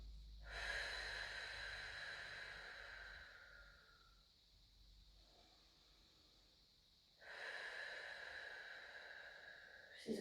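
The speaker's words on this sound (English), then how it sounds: "Take some nice deep breaths." Slow deep breathing during a pregnancy mobility stretching workout: a long airy inhale-exhale, a quiet pause, then another long breath, close and alone.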